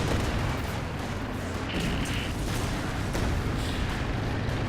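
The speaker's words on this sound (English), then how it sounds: "Shots going through there." Gunfire and artillery in Company of Heroes 2 during a 2v2 match with Soviet and German forces, ISU and Panther tanks, a dense continuous wash of shots and booms with no quiet gaps.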